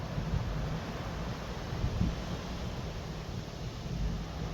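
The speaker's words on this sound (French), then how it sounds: "Le vent qui s'intensifie en plus." Strong storm wind buffets the microphone with a steady, loud, broadband rush during a violent Gironde thunderstorm with gusts to 135 km/h. Brief surges rise and fall throughout, and nobody speaks.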